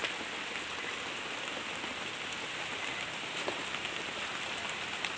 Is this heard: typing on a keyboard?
no